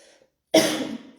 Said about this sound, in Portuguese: eu tô tossindo, é por causa da gripe